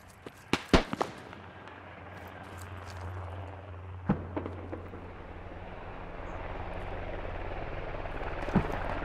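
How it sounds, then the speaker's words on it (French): Attack helicopter in the military shooter Squad, a steady rotor drone that swells through the clip beneath sharp gunfire cracks and explosions at the start, around four seconds and near the end. "Il y a qui l'hélico là?"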